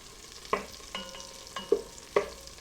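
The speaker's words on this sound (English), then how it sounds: "stirring around, that butter is just about melted" Butter melting in a stock pot over medium heat is stirred with a spoon, giving a soft sizzle under a few distinct scraping knocks spaced about half a second apart, close and fairly quiet.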